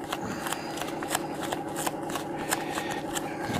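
Heated HDPE plastic being folded over and squished by hand for home recycling makes steady crinkly crackling and rustling, close and continuous, with sharper crisp snaps scattered throughout.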